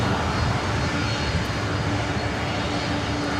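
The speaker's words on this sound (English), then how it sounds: "runway 24 right, clear for takeoff" A Delta heavy jet airliner takes off from runway 24 right at LAX, a steady, loud broadband engine roar that holds evenly throughout with no voices.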